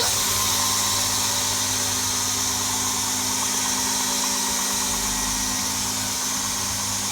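A Sax 72x2 belt grinder's horizontal motor runs in a steady, loud, continuous whine with a bright hiss of belt noise, unbroken from start to finish and heard alone.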